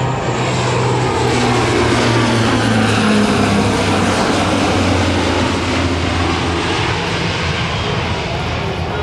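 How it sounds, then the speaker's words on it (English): A Lockheed C-130J-30 Hercules turboprop makes a slow, low pass at an air national guard open house and airshow, a loud, steady propeller roar with a droning engine hum that holds for the whole stretch. "That's a slow speed pass."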